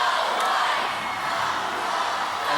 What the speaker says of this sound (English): They're packed in here tonight, and it's loud.